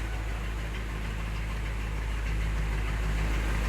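A fishing boat runs on a single engine at sea in strong wind and high waves. The engine drones low and steady with a constant rumbling vibration, loud and unbroken, with no talk.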